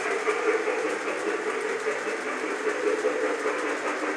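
A model electric train engine runs along its track emerging from a tunnel, giving a steady whirring, rattling hum with faint rhythmic clicking, unbroken throughout.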